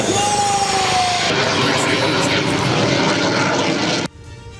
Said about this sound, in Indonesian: Dua jenis pesawat, yakni Super Tucano dan F-16, meluncur rendah, menyentuh aspal tol, dan berhasil melakukan pendaratan dengan presisi.